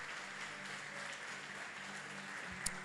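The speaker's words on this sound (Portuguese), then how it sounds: "Vamos aplaudir Jesus por esta bênção de proteção" A church congregation claps together in praise during a worship service, a steady, fairly quiet wash of hands that holds evenly throughout, with one brief sharper knock near the end.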